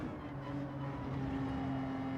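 Racing car engine in Gran Turismo 7 running at Lago Maggiore, a steady droning hum with tonal whine that holds level throughout, with no clearly audible gear changes.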